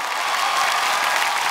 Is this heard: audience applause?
yes